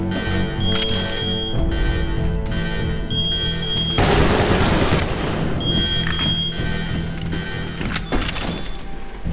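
Gunfire rattles through a Medal of Honor firefight, with dense bursts and single shots overlapping a steady electronic beeping, and a loud blast around the middle followed by more sustained shooting.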